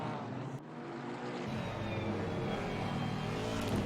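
A Mercedes-AMG GT4 race car engine screams at high revs in a close sim-racing battle in Assetto Corsa Competizione, a steady dense roar with a brief dip early before it holds loud and unbroken.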